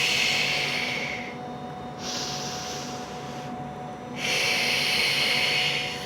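Deep, forceful breaths during an oblique-focused exercise workout, a hissing exhale, a pause, then two more long airy breaths drawn in close to the microphone, with no speech.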